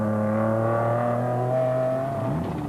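A GBS Racing Nissan hardbody off-road race truck at the 2003 Carnival City 400 roars close by, its loud, steady engine drone sliding gradually lower in pitch as it sweeps past, with no voices.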